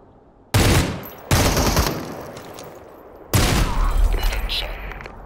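Gunfire in the shooter game Super People: a loud burst of shots, a second burst soon after, then a longer rattling volley, with some talking around it.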